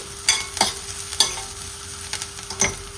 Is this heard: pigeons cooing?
no